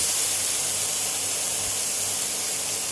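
Mixed mushrooms with chili stir-fry in a hot wok in Chinese restaurant style, giving a loud, steady sizzling hiss close by without pause.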